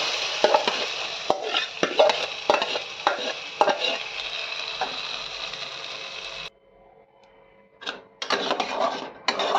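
Ground pointed gourd paste stirred into frying onions with chili powder, with a close spoon scraping rhythmically over a bright, hissing sizzle. The sound drops to near silence partway through, then the stirring and sizzling resume.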